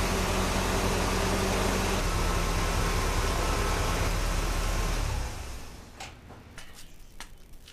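A car engine idles during a blown head gasket check, giving a steady, loud broadband rumble and hiss that drops to a quieter level after about five seconds, with a few light clicks.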